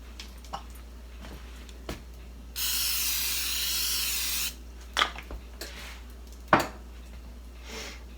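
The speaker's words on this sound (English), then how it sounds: "I need to spray it first." Cooking spray blasts into a meatloaf pan in one steady hiss lasting about two seconds, near and clear, framed by light clicks and clatter of the can and pan.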